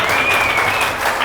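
A church congregation clapping together during a Hindi worship service, a dense, loud, continuous wash of applause from many hands in a large group.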